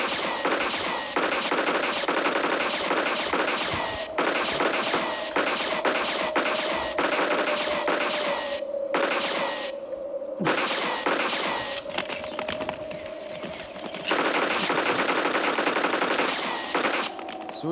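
Rapid revolver gunfire sound effect for a French-language adventure story, long bursts of sharp shots with brief gaps and a faint whining tone beneath, loud and continuous for most of the stretch.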